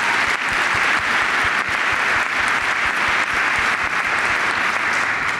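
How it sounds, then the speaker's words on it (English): An audience at a talk on workplace gender equality gives a dense, even round of applause, a continuous wash of many hands clapping at steady loudness with no voices over it. "So that's your clap for your actually turning up."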